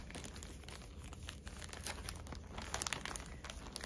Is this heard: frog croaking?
no